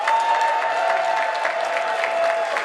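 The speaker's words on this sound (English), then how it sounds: "Look at each other and give your neighbor a round of applause." Sustained applause from an audience at an African heritage reception fills the room, steady and dense clapping from many hands, moderately loud and unbroken, with a faint voice under it.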